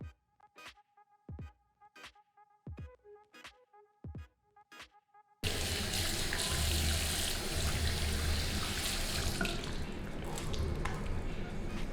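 Water runs from a tap over a Real Techniques makeup brush with foundation on it. A rhythmic series of light taps is heard first, then the water comes on suddenly and steadily, loud and close.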